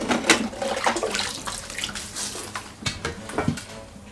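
Water splashes and sloshes as a cement tortoise toy is handled in a tub of alkaline soaking water by someone wearing rubber gloves, giving a continuous run of close, irregular splashes and trickles with no talk.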